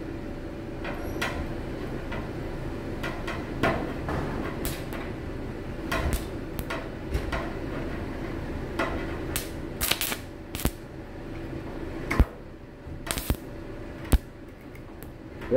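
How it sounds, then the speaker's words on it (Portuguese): Stick welding with an electrode in a lying position at about 45 degrees on the hood of a Corcel II, a steady crackling buzz running throughout with scattered sharp clicks and pops, close and moderately loud. "Observe a solda. Vou soldar deitado."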